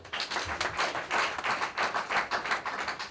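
An audience at a debate on mining applauds steadily for a few seconds, many hands clapping together in a dense, continuous patter with no voices over it.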